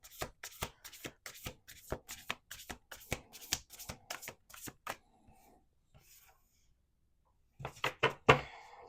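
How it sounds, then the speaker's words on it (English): Rapid riffle-shuffles of playing cards, a dense run of crisp flutters, then a brief quiet pause before a few more shuffles and taps close by. "Let's do two more shuffles."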